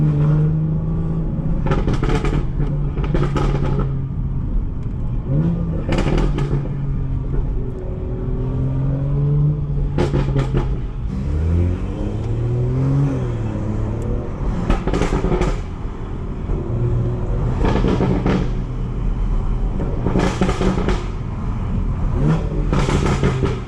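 A car engine revs hard and aggressively while driving on a road with bumps, with repeated rising and falling surges of throttle over a continuous loud engine drone.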